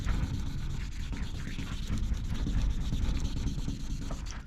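Sandpaper rubbed by hand across a car or truck body panel, a steady close scratching rasp that continues without pause and without talk.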